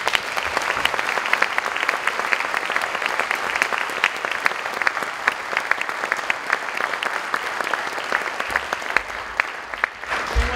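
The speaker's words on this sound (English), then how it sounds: "Another round of applause for" Sustained applause from a sizable crowd at a school jazz night concert, dense and steady clapping with a few louder claps, fading slightly at the very end.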